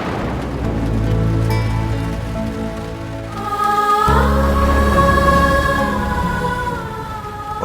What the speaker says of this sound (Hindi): रात इतनी तूफानी बारिश हो रही थी